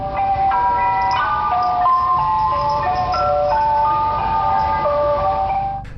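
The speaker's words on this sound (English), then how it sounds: "the twinkling song of the ice cream truck calling all the neighborhood out for a sweet treat" An ice cream truck plays an eerie, warped version of its jingle, a steady music-box melody of high tinkling tones that runs loud and unbroken through the whole stretch with no talking.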